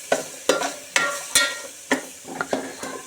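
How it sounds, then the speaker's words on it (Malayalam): Onions frying in a pan and being stirred, with repeated scraping strokes roughly every half second over a steady sizzle, close by. "അമ്മ ഒനിയൻ കുറേ ഇട്ടിട്ടുണ്ട് കേട്ടോ. ഇങ്ങനെ അനക്കി കൊടുക്കുക."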